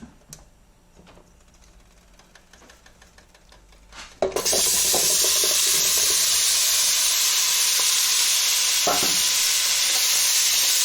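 Food sizzles loudly in a like-new pot on the stove, starting suddenly partway through after quiet handling sounds, then holding a steady dense hiss with a few clanks of stirring.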